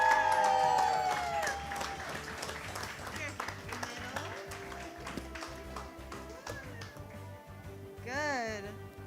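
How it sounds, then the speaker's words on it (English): An audience applauds the second-place winner of a pastry competition, a loose ripple of clapping and light cheering fading out under a presenter's talk, with a short musical sting near the end. "Big round of applause for Sadaf"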